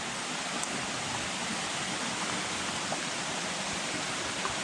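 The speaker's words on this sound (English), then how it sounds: "There is some more waterfall inside." Small waterfall inside a site near Tangpui village, a steady, dense rushing roar of falling water heard close and loud, unbroken and with no talk.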